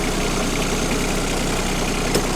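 A machine engine idling low and steady while wood is being pulled off a rock, a continuous close rumble with no voices.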